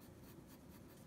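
A fine liner pen scratching a line across paper, a soft, quiet continuous scraping stroke heard close up with no talking.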